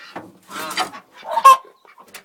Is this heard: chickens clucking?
yes